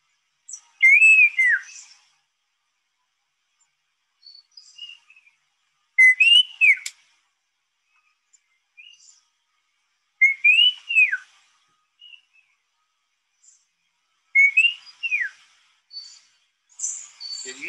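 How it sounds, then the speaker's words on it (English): Crested serpent eagles call from high overhead: four clear, ringing whistled phrases spaced several seconds apart outdoors, with quiet gaps between them and a few softer chirps. "Can you hear them? The serpent eagles going on up there."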